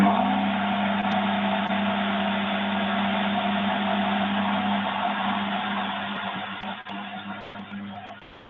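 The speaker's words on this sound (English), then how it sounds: "I'm going to add then 300 mils of buttermilk whilst this blender is on" A blender runs steadily while buttermilk is added to dough inside it, a loud close motor whir holding constant for several seconds before thinning and fading toward the end, no voices.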